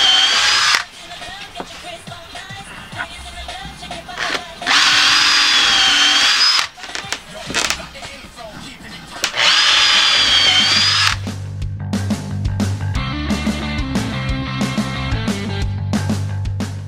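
Power drill driving screws into a plywood floor, with loud sustained bursts of whirring separated by short pauses, followed by rattling, clattering tool noise toward the end.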